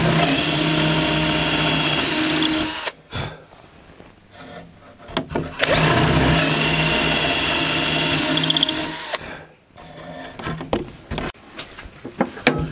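A power drill with a 5.5 mm bit boring bolt holes while building a Bellanca Decathlon aircraft fuselage, two loud sustained whining drilling runs separated by quieter handling and clatter, close by.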